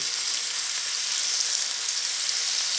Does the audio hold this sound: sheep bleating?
no